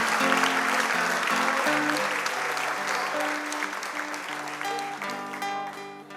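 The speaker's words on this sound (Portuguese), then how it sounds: "você pode dar um aplauso a esse Deus tremendo" Sustained congregation applause in a church service, continuous clapping under sustained organ-like music chords, fading slightly toward the end.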